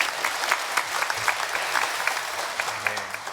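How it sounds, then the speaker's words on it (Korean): A church congregation claps together during a Sunday worship service, a dense, sustained round of applause that fills the room. "여러분, 그렇게 하신 하나님께 우리 박수로 영광을 올려드렸으면 좋겠습니다."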